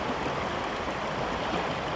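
Creek water flows steadily through the woods, a continuous close rushing and babbling with no breaks and no voices.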